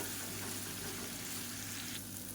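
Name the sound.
raw banana slices frying in a pan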